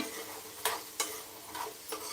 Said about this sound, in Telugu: చూడండి చక్కగా ఫ్రై అవుతున్నాయి